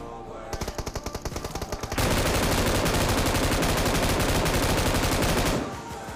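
Gunfire in the mobile game PUBG Mobile: a string of rapid, evenly spaced shots gives way to a loud, continuous burst of automatic fire that stops abruptly.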